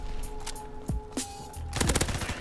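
Rapid bursts from the ORSO submachine gun in Call of Duty WW2 multiplayer: quick crackling shots arrive in a short cluster near the end, with scattered single shots before, over steady game background hum.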